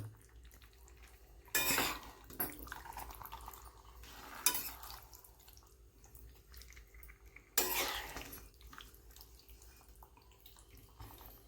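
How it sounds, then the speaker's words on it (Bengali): Chicken pieces being mixed with spices in a pan for lemon chicken, a quiet scraping and squelching punctuated by three loud bursts of clattering metal against the pan, with no talking. "এবার এই সম্পূর্ণ মশলার সাথে আমি ভালো করে মাখিয়ে নেব।"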